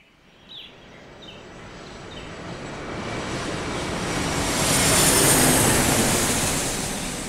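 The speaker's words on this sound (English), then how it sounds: "led them to the private jet that also doubled as the attacker jet when needed" A private jet's engine roars steadily, swelling from a moderate whine to a loud, broad rush before easing slightly, with no talking.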